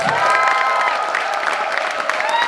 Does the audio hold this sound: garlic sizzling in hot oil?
no